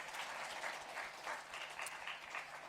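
Church congregation at a Sunday worship service claps in welcome, a soft, steady round of applause with slight swells, heard faintly at a distance without speech.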